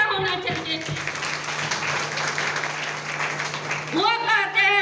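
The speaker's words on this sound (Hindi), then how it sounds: "हमारे ग्रेट अपलाइन गुलाटी सर जिनके लिए तालियां होना चाहिए" Audience applause at a company gathering, a steady wash of clapping at moderate level with tonal sounds and a voice rising near the end.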